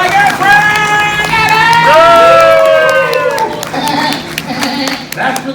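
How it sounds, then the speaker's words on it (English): An audience at a live horror make-up show claps and cheers loudly, a dense burst of applause with whoops, while a voice talks and shouts over it near the microphone. "Big round of applause"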